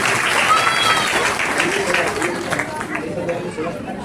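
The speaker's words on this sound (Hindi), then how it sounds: "तो आप अपने लिए भी ताली बजा लें।" An audience at a religious katha gathering for Radhaashtami claps in a steady, dense round that fades gradually toward the end, with crowd chatter mixed in.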